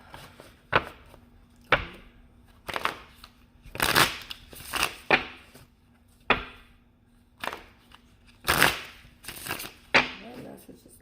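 Tarot cards being shuffled and tapped for a reading, in a series of sharp, irregular close-up slaps and riffles at roughly one-second intervals, with a faint steady hum beneath.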